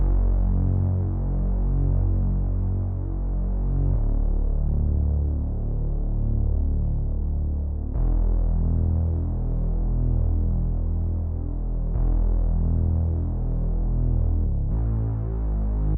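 A deep, humming synth bass line for a sad piano beat throbs steadily, shifting pitch every few seconds with gliding slides between notes, loud and alone.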